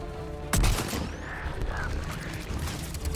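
A single loud, close gunshot rings out in a Mass Effect 3 firefight, followed by mechanical clatter and lingering ambient game noise.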